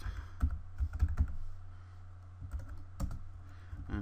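Typing Java code on a computer keyboard: irregular bursts of key clicks with short pauses, fairly quiet and close, over a steady low electrical hum.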